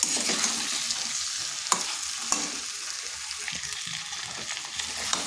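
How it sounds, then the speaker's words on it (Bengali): Parboiled potatoes and cauliflower stir-fried with tomatoes on a slow flame with no water added, giving a constant close sizzle with intermittent scraping stirs and soft clacks. "এটা কিন্তু বেশ কিছুক্ষণ সময় ধরে কষতে হবে"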